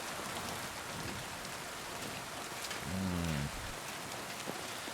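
Continuous rain patters in Kingdom Come Deliverance 2, a broad, even wash of drops on surfaces, with a short low tonal swell rising briefly partway through.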